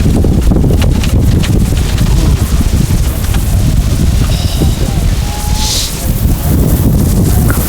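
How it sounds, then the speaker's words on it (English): A strong headwind roars across an open rowing course during a collegiate race, a loud unbroken rush of wind buffeting the microphone with a faint voice buried underneath. "Very windy, very stiff headwind."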